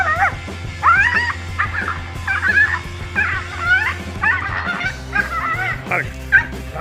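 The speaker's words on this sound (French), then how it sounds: "Un petit chien a rapidement regretté de s'être attaqué au lézard Tego lorsqu'il en a eu assez de ses aboiements agaçants" A small dog barks, yips and whimpers in a quick, excited series of calls while confronting a tegu lizard, with a steady low rumble underneath throughout.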